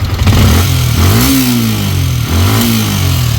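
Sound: Yamaha Sniper 155 motorcycle engine revving to 7,000 rpm

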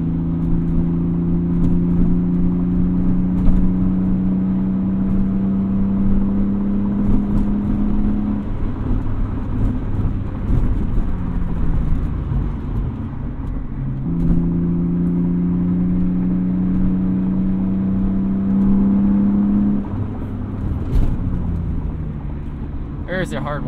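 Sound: car speeding up on the road

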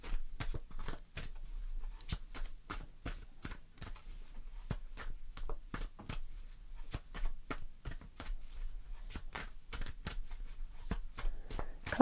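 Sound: tarot cards being shuffled

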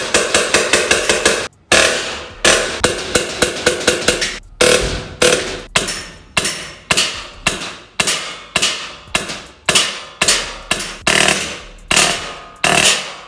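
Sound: gel blaster firing

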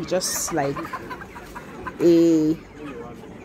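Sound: laying hen chickens clucking

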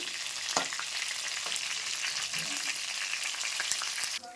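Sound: fish frying in oil

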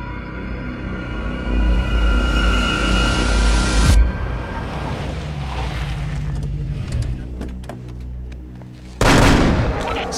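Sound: gunfire in a film shootout

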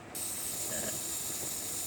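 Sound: Olympus OM-2 camera self-timer mechanism running

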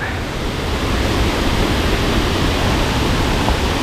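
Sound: Krathing waterfall, Chanthaburi, heavy water flow

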